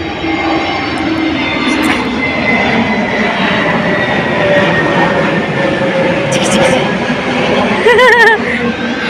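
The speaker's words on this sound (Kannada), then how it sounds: "ವಿಮಾನ್ ವಿಮಾನ್" A fixed-wing airplane flies overhead near a temple in Goa, its engine roar a loud, sustained drone across the whole stretch, with people talking nearby and a brief voice near the end.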